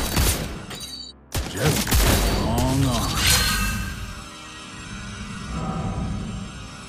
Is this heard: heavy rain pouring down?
no